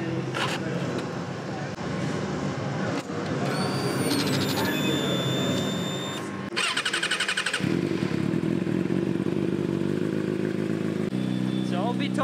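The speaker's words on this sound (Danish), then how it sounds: "Vi har fået første opstart af motorcyklen" A racing motorcycle engine fires up for its first start in a paddock garage, cranking and clattering before catching into a loud, rough, revving idle with sharp blips, while people talk nearby.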